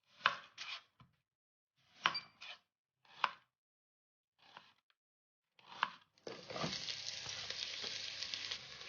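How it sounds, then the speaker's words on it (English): Chopped onions and garlic hit a hot pan and sizzle steadily near the end, after several short knife chops on a board in a quiet kitchen. "I'm gonna fry onions with garlic."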